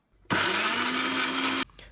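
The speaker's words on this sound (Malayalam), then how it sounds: "പിന്നെ കുറച്ച് ഉപ്പും മുളകും പൊടിയും ചേർത്ത് മിക്സിയിൽ ചെറുതായിട്ടൊന്ന് അരച്ചെടുക്കാം" A mixer grinder crushes coconut with bilimbi, salt and chilli powder for chammanthi in one loud, close whirring burst of just over a second that then cuts off abruptly, with no voices.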